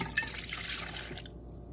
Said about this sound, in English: what I'm going to do is pour my milk in